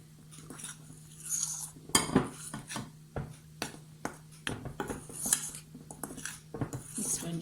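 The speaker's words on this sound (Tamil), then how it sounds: "நன்றாக மிக்ஸ் பண்ணிவிட வேண்டும்." Chocolate cake ingredients being stirred in a bowl, with irregular close scrapes, clinks and taps of a utensil against the bowl, separated by quiet gaps.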